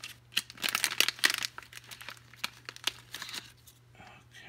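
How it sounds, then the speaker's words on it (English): Crinkly plastic foil wrapper of a Superplastic Janky Series One blind-box toy torn open by hand, a close run of crisp crackling rips and crunches that taper into scattered rustles, with a steady low electrical hum underneath. "Rip it open."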